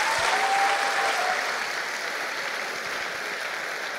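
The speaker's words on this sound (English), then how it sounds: "let's cheer once again for the vice dean of the Faculty of Medicine Muidru Žermanos and also Ieva Bērziņa." A graduation ceremony audience for international medical students applauds the vice dean, a steady, moderately distant wash of many hands clapping that slowly fades.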